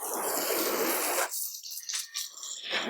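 Water rinses a car during washing, a dense hiss of hose spray on the body panels, then stops and gives way to scattered splashes, drips and runoff, close by, with no talking.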